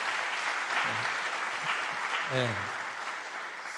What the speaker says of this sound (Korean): 장로님들 한번 박수 한번 쳐주실래요?